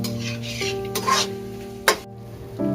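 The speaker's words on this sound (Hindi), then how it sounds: "लहसुन अदरक को हम अच्छी तरह से चिकन में भुनेंगे" Chicken sizzling with garlic and ginger and being stirred in a pan, with a metal spoon scraping and clinking against the pot in a couple of sharp knocks.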